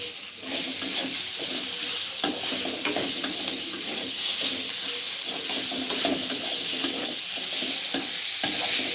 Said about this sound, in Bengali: পরিমাণ মতো গুঁড়া লঙ্কা তুলসীতে পাত্রে ঝাল করে রান্না করতেছি